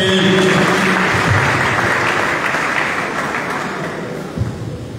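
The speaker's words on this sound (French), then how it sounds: "Monsieur Parfait, que je vous demande d'applaudir très respectueusement, s'il vous plaît." Loud crowd applause fills the clip, dense clapping that slowly tapers off toward the end.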